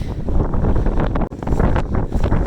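Strong wind on a mountaintop buffets the microphone in loud, continuous gusts, with a brief lull near the middle before the roaring resumes.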